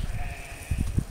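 A goat gives a short, shaky bleat nearby, a quick wavering call over faint background noise.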